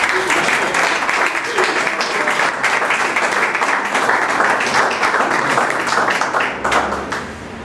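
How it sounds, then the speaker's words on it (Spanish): Loud, close, sustained applause from a poetry event audience honouring a writer, with dense continuous clapping that tapers slightly at the end. "Muchísimos aplausos."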